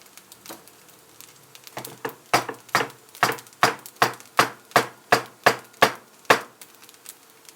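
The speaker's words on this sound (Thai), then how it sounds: "หั่นไข่เป็นเส้น ๆ" A knife chops a cooked omelette into strips on a cutting board, a steady run of about fifteen crisp, close knocks that start sparse and light, then grow louder and evenly spaced.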